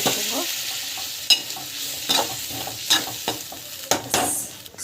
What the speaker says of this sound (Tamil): நல்லா பச்சை வாசம் போகிற வரைக்கும் நல்லா வதங்கணும்.